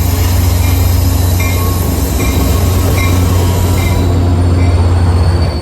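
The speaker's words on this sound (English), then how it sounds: "Noisy, heavy, and extremely polluting diesel locomotives pulling a rake of passenger cars" Caltrain diesel locomotive hauling a rake of passenger cars, loud and close with a heavy low engine drone, rolling rail noise and intermittent wheel squeal throughout.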